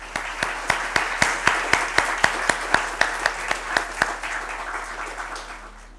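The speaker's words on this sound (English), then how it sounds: "Let's give the loudest round of applause to Swamiji." An audience at a school town hall gives a round of applause after a talk, a room full of clapping with a strong rhythmic unison beat that gradually fades out, no voices over it.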